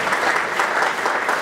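A crowd at an itel smartphone launch event in the DR Congo bursts into steady, dense applause that is loud and continuous throughout.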